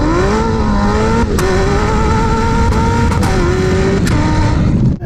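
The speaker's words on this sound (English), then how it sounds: "It's like a gun going off when you change gears" Zenvo TSR-S hypercar at full throttle, its engine note climbing in loud, close revving runs, each cut short by a sharp gunshot-like bang at the gear changes, with several shifts in quick succession.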